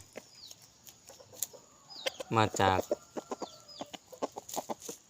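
A young crossbred fighting rooster clucks in short bursts with one louder crowing call in the middle, close by, among chirps from other birds and a brief spoken word.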